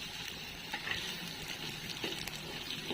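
Village-style egg bhurji frying in a pan, a soft crackling sizzle with light scraping as the egg is broken into small pieces, no voices.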